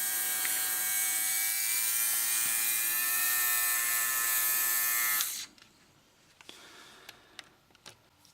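Panasonic ER430K nose and ear hair trimmer runs with a steady, close, high-pitched electric buzz for about five seconds, then switches off, leaving only a few faint clicks and handling taps.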